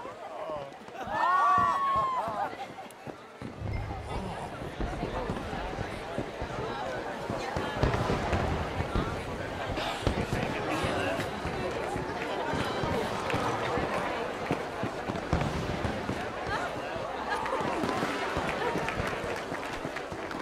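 Fireworks bursting in Red Dead Redemption 2 crackle and pop in a dense, continuous stream over a distant rumble, with a brief whistle at the start and game voices talking underneath.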